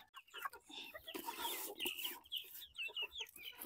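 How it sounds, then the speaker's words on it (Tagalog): Basilan native chicks and chickens for sale on a backyard farm chirp and cluck in rapid overlapping bursts close by, busy and continuous with no talk over them. "Ito yung sisiw na ibibinta ko actually."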